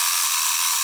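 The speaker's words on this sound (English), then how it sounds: "we are going to drill a 2-inch hole right there at that spot" A drill bores a 2-inch hole through a wooden fence picket, giving a steady, loud, high-pitched grinding whine that holds constant without a break.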